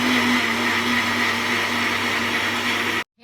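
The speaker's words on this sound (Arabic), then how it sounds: "الخلاط كان شغال لوحده" An electric kitchen blender whirs loudly and steadily at close range for about three seconds, then cuts off abruptly into silence.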